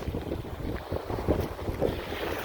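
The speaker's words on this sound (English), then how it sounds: "A little bit windy today." Gusty wind buffets the microphone in low rumbling bursts in Mexico around 6 p.m., with faint water and boat-like background noise beneath, no voices.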